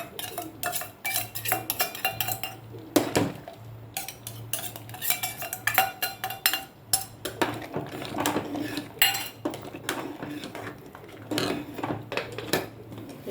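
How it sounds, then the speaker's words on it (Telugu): Metal utensils clatter and scrape in a pan as tempering is added to tomato dal, a busy run of sharp clinks and stirring knocks, fairly close and without talk, over a low steady hum. "అలాగే పోపు వేసేసుకుందాం పోపు పెట్టాం కదా మనం ఆ పోపు వేసుకోవాలి"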